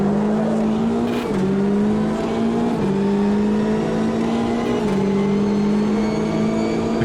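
A Corvette C8R race car engine in Automobilista 2 at the Daytona 24 Hours drones loudly and steadily, its pitch climbing through gears with brief drops at each upshift, continuous with no talk.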